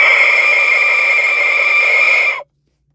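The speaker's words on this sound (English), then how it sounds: "call it the Aztec death whistle" An Aztec death whistle lets out one sustained, piercing, breathy shriek for about two and a half seconds, loud and close, then cuts off abruptly into silence.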